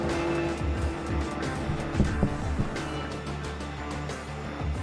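A front-wheel drive race car in Gran Turismo 4 drones along with a steady engine note, interrupted by brief tire squeals and bumps, with game sound effects and no voices.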